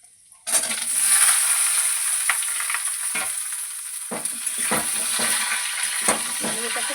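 Dried chillies and radhuni spices dropped into hot oil burst into loud, steady sizzling that holds throughout, with occasional scrapes and stirring knocks in the pan.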